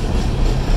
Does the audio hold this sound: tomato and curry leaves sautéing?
no